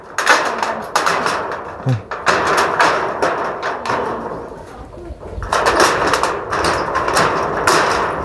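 Repeated sharp hammer blows during communal outdoor work, struck in bursts of rapid knocks with short pauses between them, moderately loud against a background of birds cooing.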